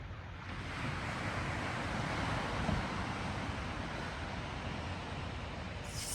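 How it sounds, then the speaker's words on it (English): Ocean waves wash continuously onto a beach at sunrise, a steady broad rushing surf with some wind noise on the microphone and no speech. "Can you hear them waves?"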